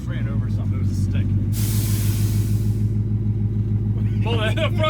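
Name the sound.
air escaping from 1959 Ford truck front end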